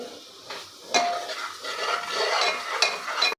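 Chili powder, Kashmiri red chili and coriander powder get stirred into hot oil for a Kokani val bhaji, a spoon scraping and clinking against the pan over a soft, close sizzle.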